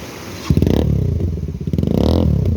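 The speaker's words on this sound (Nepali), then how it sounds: "बाटो यस्तो छ टायर घुमिरहेछ हो" Motorcycle on a rough, dangerous mountain road near the Nepal–India border, its engine revving in two loud bursts with a pulsing, labouring tone as the tyre spins, with light clatter between.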